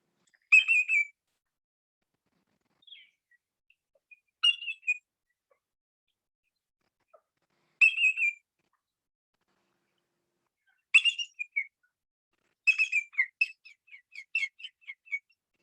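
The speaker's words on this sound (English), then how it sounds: "greater yellowlegs call, sort of a toot toot toot call. It's 3 or more notes, and it's louder." Greater yellowlegs calling in several loud, ringing bursts, each a run of three or more sharp whistled toots, spaced out with silent gaps and a longer series of notes near the end.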